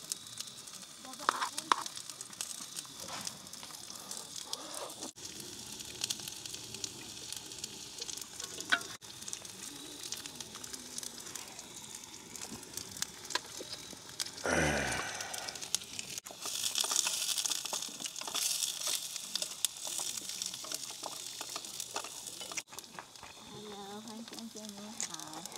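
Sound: pan-frying fuzzy melon (jiegua) at campsite

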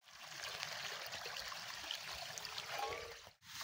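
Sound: water flowing at stream while washing dishes

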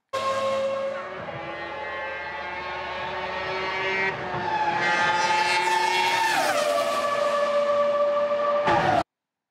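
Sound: Formula One car engine passing by, Doppler effect

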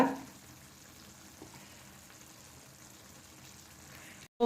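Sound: fish masala frying in a pan

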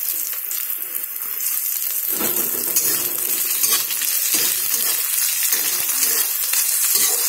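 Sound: frying ginger and chopped chilli in a pan

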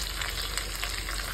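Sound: curry leaves and chillies frying in oil

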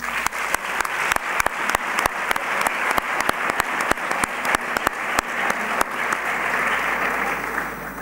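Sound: audience applause

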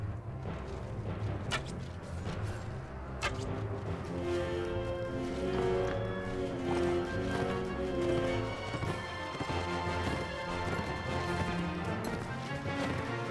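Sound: horse hooves in video game Mount & Blade: Warband

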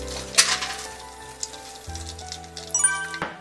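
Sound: deep-frying breaded shrimp in oil

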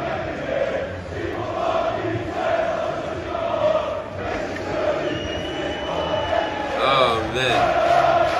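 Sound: football supporters' section chanting loudly in Old Trafford

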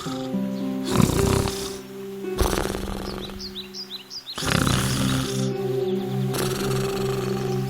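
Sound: wolf snoring under a tree, cartoon sound effect

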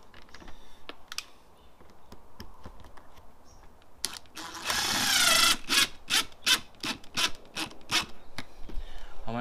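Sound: putting in 8 gauge screws on caravan shower vent

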